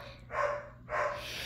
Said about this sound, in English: I hate dogs barking.